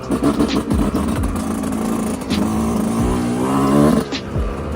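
A motorcycle engine runs steadily and close while riding, its drone rising and falling with short revving swells, loud and continuous throughout.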